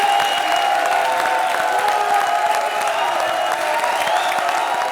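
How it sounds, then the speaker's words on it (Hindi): Studio audience on a comedy show applauding and cheering, a dense, steady roar of clapping and crowd noise that holds at full volume throughout, with no speech over it. "ताली बजाओ"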